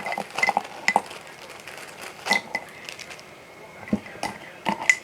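Spoon stirring reconstituted freeze-dried peach cobbler with cinnamon roll crust pieces, giving light clinks and scrapes against a pot in an irregular rhythm, fairly close.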